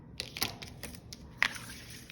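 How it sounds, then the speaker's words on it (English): Scissors snip through paper in a few short, crisp cuts, close and fairly quiet, with brief pauses between the snips. "this is what we need our scissors for right here, to cut it."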